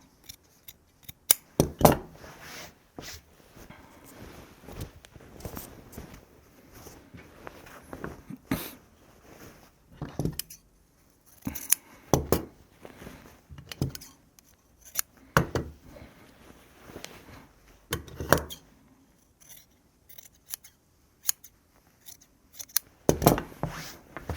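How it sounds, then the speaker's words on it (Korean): Scissors snip through excess jacket sleeve fabric in quiet, close, irregular cuts, some single and some in quick bursts, separated by pauses with light handling noise. "이렇게 여유분이 있는 소매들은 잘라 줄게요"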